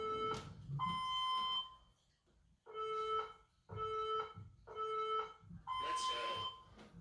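Workout interval timer alarm sounding in repeated electronic beeps, a few sustained tones in short bursts separated by brief gaps, clear and fairly loud.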